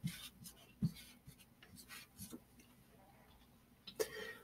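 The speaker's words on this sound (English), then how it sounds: "So I'm going to write down each of those answer choices on my whiteboard." A marker squeaks and scratches across a whiteboard in short, quiet strokes, with a few faint throat sounds between the writing.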